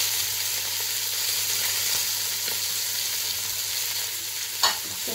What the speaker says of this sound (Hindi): अपना बीफ ऐड करके इसे डालकर अच्छी तरह से भून लेंगे, इसके साथ में अपने सारे स्पाइसेस ऐड कर देंगे